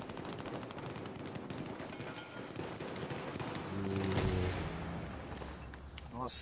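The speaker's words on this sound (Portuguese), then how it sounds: "Nossa, tomando uns tiros aqui." Rapid bursts of machine-gun fire rattle close by in Battlefield 3 on PS3, with a brief voice and tonal hum mixed in.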